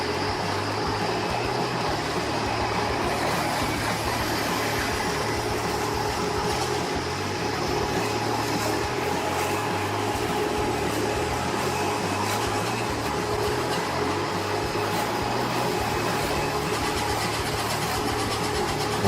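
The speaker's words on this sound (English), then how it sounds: "With powerful rotating grinding blades, the machine quickly cleans the logs" A log grinding and chipping machine with rotating blades runs steadily, its loud, continuous mechanical drone holding level throughout with no talking.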